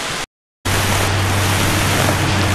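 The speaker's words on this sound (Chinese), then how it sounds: "忽然下起大雷雨" Heavy rain from a sudden thunderstorm pours down on a hiking trail, a loud, steady rushing hiss that starts after a brief dropout and continues without letup.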